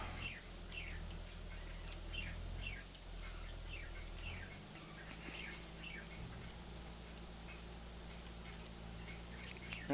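Repeated bird chirps and short song phrases rise and fall over a steady low engine drone, likely from a small aircraft cabin or nearby, with the calls fairly faint and spread evenly through the scene.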